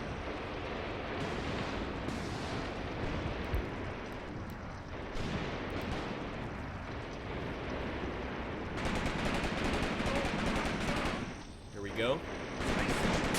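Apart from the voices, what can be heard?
heavy artillery fire in video game Graviteam Tactics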